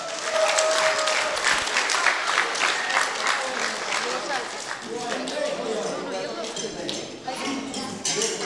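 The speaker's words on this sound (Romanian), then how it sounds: "Dați-i aplauze" Wedding guests applaud at a celebration in Cahul, a dense clapping crowd filling the space with voices and chatter mixed in, steady throughout before thinning slightly near the end.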